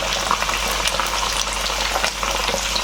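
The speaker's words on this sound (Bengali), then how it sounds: "আলুগুলো একটু ভেজে নেব" Potatoes fry in a hot pan with a few spoonfuls of oil, a steady, close, dense sizzle that crackles evenly throughout with no voices over it.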